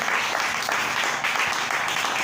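A church congregation applauds and cheers at a service. Dense, steady clapping and crowd noise fill the whole stretch at close range.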